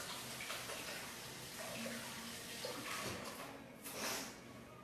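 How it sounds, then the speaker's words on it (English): Tap water runs steadily at a kitchen sink as hands are rinsed during cooking, a soft continuous rush with faint splashes and small clatters, heard fairly quietly with no speech. "Let me rinse my hands off first."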